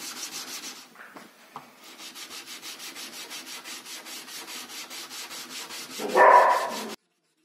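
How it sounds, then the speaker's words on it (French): Hand sanding of a steel hunting dagger with 240 grit abrasive, a steady rhythmic rubbing of back-and-forth strokes close up, with a louder harsher burst near the end. "Pour le polissage, on commence avec du grain 240 comme vous avez pu le voir"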